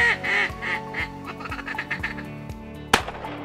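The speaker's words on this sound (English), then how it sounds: "First duck of the year." Ducks quack in a steady rhythmic series at a waterfowl hunt at first shooting light, moderately near, followed by one sharp loud report near the end.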